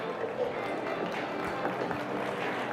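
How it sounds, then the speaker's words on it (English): A conference audience at a FinTech Week stage in Hong Kong applauds for the moderator, a steady wash of crowd clapping throughout with some voices underneath. "let's give a big round of applause to our moderator, Rebecca Lim"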